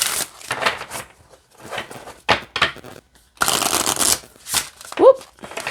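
Affirmation cards get shuffled in several separate bursts of crisp riffling and flicking, fairly close and loud, with short pauses between them and a brief vocal sound near the end.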